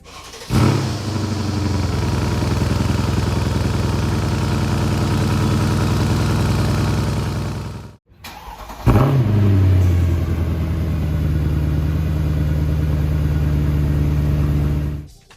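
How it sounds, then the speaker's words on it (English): A Mercedes-AMG M157 V8 engine cold-starts, cranking and firing into a loud, deep rumbling idle, cuts out briefly, then restarts and settles into a steady throaty drone. "on a cold start, the M157 does sound quite nice and has more of a rumble to it"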